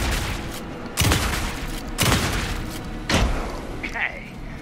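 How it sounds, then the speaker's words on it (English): Gunfire in the video game Alan Wake 2 sounds as four heavy, evenly spaced booming shots about a second apart, loud over a dark rumbling game ambience. "Anderson, pin him down with gunfire for me to get the light on."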